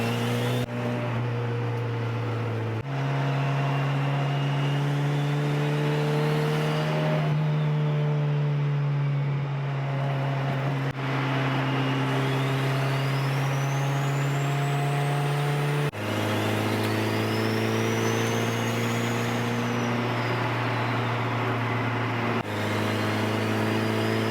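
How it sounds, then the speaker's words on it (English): A turbocharged car engine drones continuously, with turbo whistles rising and falling as the revs shift through several gear changes. "Sound of this turbo is literally everything"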